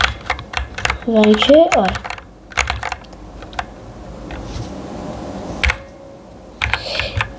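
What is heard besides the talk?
keys pressed on K612 computer keyboard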